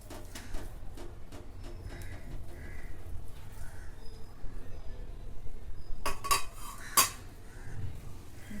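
Mashed potato mixed with green chili thecha and chili flakes in a bowl for sabudana vada: quiet scraping and stirring, then a few sharp utensil clinks near the end.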